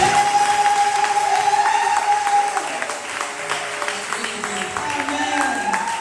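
A worship service congregation cheers and applauds, a continuous wash of clapping and crowd noise under a sustained voice or tone, fairly loud and easing somewhat after the first couple of seconds.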